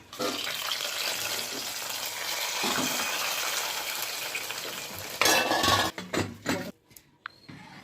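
Garlic, cumin, curry leaves and dry red chillies spit and crackle in hot oil for a dal tempering, a steady loud sizzle that breaks into sharper bursts and clatter before fading near the end.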